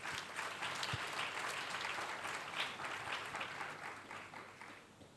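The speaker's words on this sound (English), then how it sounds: "I want us to give them a round of applause" A round of applause from a congregation at People's Cathedral, many hands clapping in a thick sustained wash that swells slightly mid-clip and eases toward the end.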